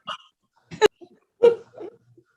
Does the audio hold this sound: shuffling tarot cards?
no